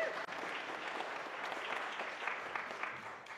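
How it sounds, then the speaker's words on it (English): A church service audience claps for a vocal quartet, steady, moderately loud applause running throughout the short stretch with no voices on top. "Applause before you even sing"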